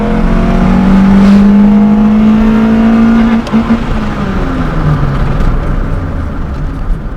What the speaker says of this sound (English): you need to really hit the limiter, tap it twice, change the gear